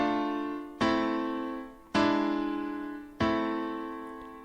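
Three sustained piano chords in a minor key with a raised seventh are struck one after another, each ringing out and slowly decaying before the next.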